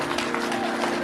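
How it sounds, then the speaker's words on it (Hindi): Audience applause at a Shrimad Bhagavat Katha gathering in a temple, a steady dense wash of clapping that fills the whole moment, with a voice faintly mixed in. "मत बजाओ तालियां"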